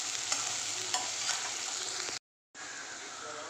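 Sliced onions sauté in a hot pan with a dense, even sizzle and a few light stirring knocks, briefly cut to silence before the frying hiss resumes.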